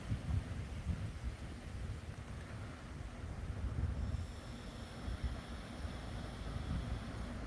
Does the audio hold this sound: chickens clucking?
no